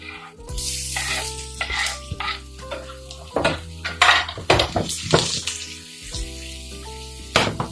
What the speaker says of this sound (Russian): Отправляем чеснок и лук на сковородку.